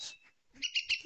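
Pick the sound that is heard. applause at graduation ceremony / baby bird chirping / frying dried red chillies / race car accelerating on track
baby bird chirping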